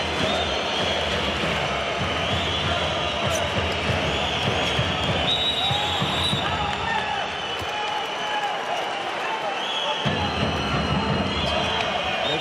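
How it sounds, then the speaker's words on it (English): Packed arena crowd at a Vardar versus Veszprém handball final being stirred up, a dense continuous roar with cheering, clapping and ball bounces, with commentary talk over it. "Gorbach is winding up the Vardar crowd, trying to get them a little more power in there"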